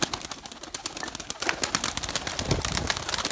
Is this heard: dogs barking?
no